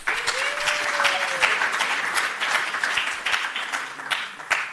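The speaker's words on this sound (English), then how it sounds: "Please give him another round of applause." Audience applause at a British Council event on innovation for African universities, steady dense clapping from a crowd that holds for the whole stretch before easing slightly.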